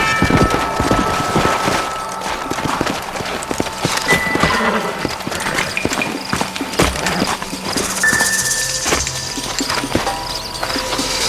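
Horse hooves clopping steadily in Red Dead Redemption, a busy stream of hoofbeats under game music and ambient effects, with a brief neigh suggested amid the continuous layered soundscape.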